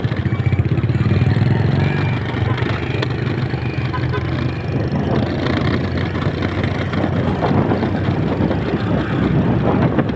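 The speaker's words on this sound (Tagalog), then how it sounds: "Mamamatay yung makina natin." A motorcycle engine idles and runs with a steady low pulsing throb, close and fairly loud throughout, with people talking over it.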